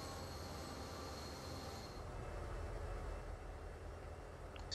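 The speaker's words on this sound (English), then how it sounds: "That's the big DDA-40X diesel." A big DDA40X diesel locomotive pulls a train in the video game Transport Fever 2, a continuous low rumble of rolling wagons with a high squeal that fades after the first two seconds.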